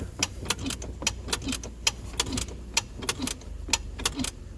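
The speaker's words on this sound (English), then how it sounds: "you're going to hold your foot on the brake and ratchet the parking brake" Car parking brake lever ratcheted up repeatedly while a foot holds the brake pedal, a rapid series of sharp, close metallic clicks in uneven bursts, with no talking.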